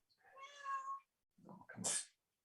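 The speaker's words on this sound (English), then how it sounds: "Whose cat did I just hear?" A cat meows twice close by, first a drawn-out tonal cry and then a shorter, brighter one after a brief pause, with no voices around it.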